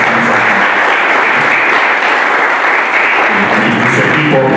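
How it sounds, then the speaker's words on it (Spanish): Audience at a literary dialogue event applauding warmly, a dense, even wash of clapping that stays loud and unbroken from start to finish. "quiero un aplauso para él"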